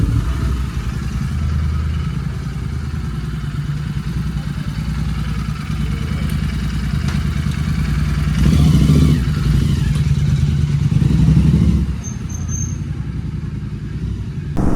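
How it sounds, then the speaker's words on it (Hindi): A GT 650 motorcycle fitted with a new chain sprocket kit and iridium spark plugs idles nearby, then revs briefly and pulls away after its service, with a steady engine rumble and some clatter. "सो गाइस फाइनल हो गई बाइक और इमरान भाई जा रहे हैं थोड़ा चेक करने के लिए कैसी चल रही है।"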